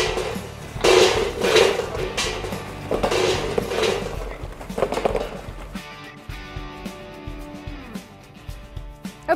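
Charcoal briquettes are dropped into the metal bowl at the bottom of a smoker, giving loud clattering, clanking impacts in bunches over the first seconds, followed by quieter scraping and shifting.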